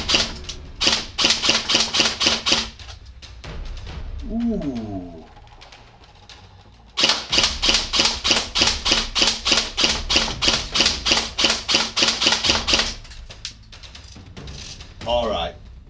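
An airsoft gun fitted with an Acetec Predator MK3 tracer unit fires quick semi-auto shots in two long runs of crisp, evenly spaced cracks. Someone speaks briefly in the pause between the runs.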